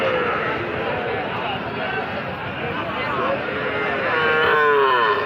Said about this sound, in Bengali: প্রচুর পরিমাণে ষাঁড় বাছুরের কালেকশন আছে আজকে জয়পুরহাট নতুন গরু হাটে